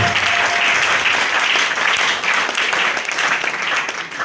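A church congregation applauds and cheers loudly, with dense continuous clapping and voices that hold steady throughout.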